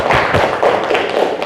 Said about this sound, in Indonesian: silakan kita beri aplaus terhadap kelompok